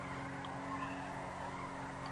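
Tires skid in a steady continuous squeal as a car spins donuts in Grand Theft Auto V Online, the engine droning beneath, moderately loud and constant throughout with no talking.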